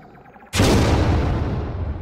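A grenade in a Half-Life 2 style VR experiment detonates after a quiet ticking lead-in, bursting into one loud, close boom that rolls into a long, slowly fading rumble.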